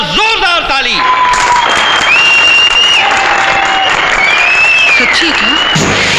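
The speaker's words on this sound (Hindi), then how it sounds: "इस मर्द के लिए बजाओ एक बार जोरदार ताली।" A live audience at a stunt show bursts into loud, dense applause and cheering for a performer who leaps into water after being set on fire, with whistles and shouting voices mixed in throughout.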